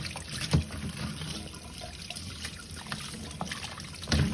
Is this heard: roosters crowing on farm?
no